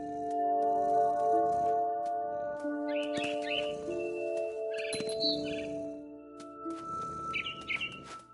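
Birds chirp in short, high twittering bursts in the video game What Remains of Edith Finch, scattered over sustained, tonal background music.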